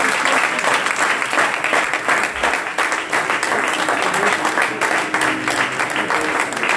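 A church congregation at a French prayer service claps loudly and continuously in praise of God, dense applause filling the room with voices mixed in throughout.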